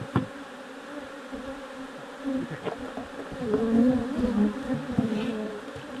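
Honeybees buzzing at an open beehive during a queen excluder installation, a steady droning hum with shifting pitch and occasional handling knocks, close and continuous without speech.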